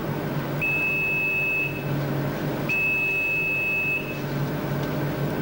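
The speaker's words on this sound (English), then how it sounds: "When the remove signal sounds," In a McDonald's kitchen, a fryer timer gives its remove signal for pies cooking in shortening: two separate long electronic beeps about two seconds apart, clear above a steady low kitchen hum.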